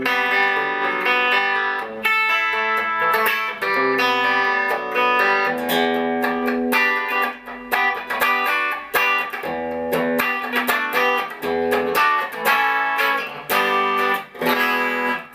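Gibson Les Paul Junior electric guitar played clean with volume on 10, bright chords and single notes ringing steadily and loud for the whole stretch, no voice over it.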